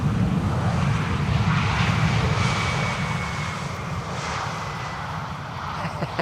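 An airliner landing on the Polderbaan runway 18R at Schiphol, heard as a loud, steady broadband engine roar that sustains without pause and eases slightly toward the end, with no talk over it.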